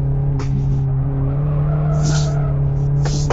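A race car in the Live For Speed driving game accelerates in second gear, a loud steady engine drone holding a fairly constant pitch, with brief bursts of higher hiss over the top.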